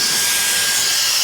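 A WOLFBOX MegaFlow 200 portable air blower runs at close range, giving a loud, steady, breathy roar of rushing air with no talking.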